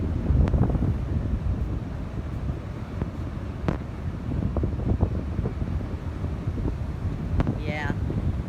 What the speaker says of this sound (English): we're getting gusts, probably 30, 40 mile gusts, I'd say right now